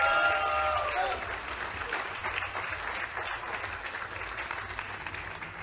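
A crowd at a military cooking contest applauds the Marines with steady, dense clapping that stays loud and sustained throughout, close and filling the space.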